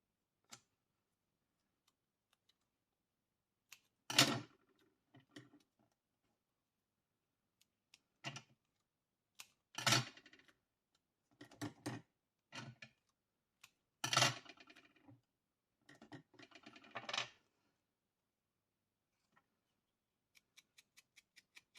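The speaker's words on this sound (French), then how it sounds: "Alors, mon petit ciseau bleu." Small blue scissors snip through craft foam in a few sharp, close clicking bursts separated by quiet pauses, with a faint run of light ticks near the end.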